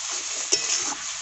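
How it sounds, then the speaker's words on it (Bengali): Potatoes sizzle in hot oil with spices in a pan as a spatula stirs them, a short burst of soft frying hiss broken by a couple of scraping knocks. "আলুটা দিয়ে আলুটাকে মশলার সঙ্গে ভালো করে কষিয়ে নিলাম।"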